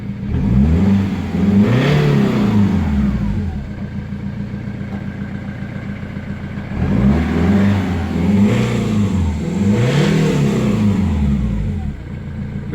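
Ford Mondeo ST engine running close by, revving up in repeated rising and falling bursts over a steady idle, with a voice heard briefly.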